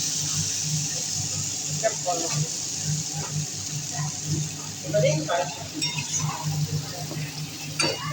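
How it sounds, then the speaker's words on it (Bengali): Spiced masala for a homemade crab curry sautéed in a pan, a close, steady sizzle with repeated stirring scrapes and occasional utensil clinks throughout. "মশলাটা কষানো হয়ে গেছে"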